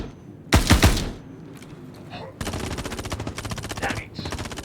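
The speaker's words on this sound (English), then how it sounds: "They're all shooting everywhere. Taking shots everywhere." Gunfire in the video game Star Citizen: a few heavy shots early, then a sustained rapid automatic burst of rattling fire running to the end, moderately loud with no talk over it.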